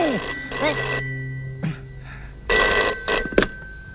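A telephone rings with a bell-like tone in several short bursts separated by pauses, loud and close in an indoor scene of a comedy film.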